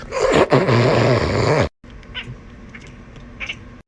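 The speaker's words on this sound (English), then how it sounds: "Because your purring sounds like this." A cat gives a loud, drawn-out rasping meow-growl, breaking off abruptly, followed by quieter wheezy breathing sounds with faint scattered clicks.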